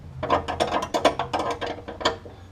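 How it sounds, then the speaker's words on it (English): A ratchet wrench clicks in quick bursts while tightening the brake line fitting from the master cylinder to a T on a cheap hydraulic handbrake build for a budget drift car, close and crisp with no talk. "Just tightening up the line leading from the master cylinder back to the T here."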